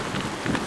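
Heavy rain falls steadily at Loch Ness, an even, dense hiss of drops close by with a low rumbling undertone and no voices.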